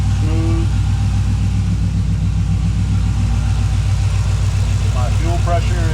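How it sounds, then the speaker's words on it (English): A Chevrolet squarebody truck's swapped-in LS engine idles steadily with a low, even rumble throughout, with a brief voice-like tone near the start and end. "It's idling smooth"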